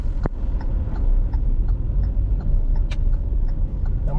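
Car pulling away from a driving school into traffic, a low steady engine rumble with road noise rising slightly as it accelerates, heard from inside the cabin.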